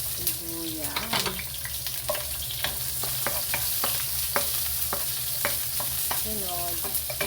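Onion drops into hot cooking oil in a pan and sizzles loudly and steadily, with repeated clinks and taps of a utensil stirring close by.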